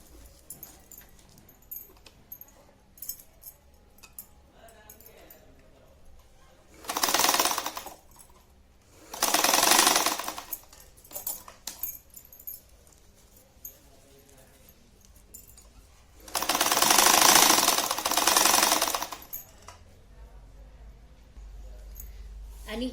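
A sewing machine topstitches a purse after its zipper is attached, running in short bursts of a few seconds each with quiet handling noises and a voice speaking between them.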